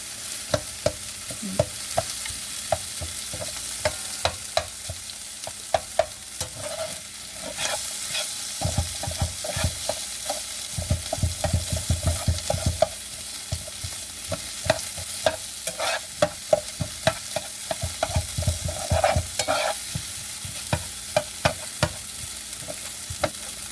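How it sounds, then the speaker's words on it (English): Softened French fries are smashed and stirred with a metal utensil in a hot pan alongside quail eggs, loud frequent scraping and tapping over a constant close sizzle. "I just wait till they soften up and smash them up in the pan"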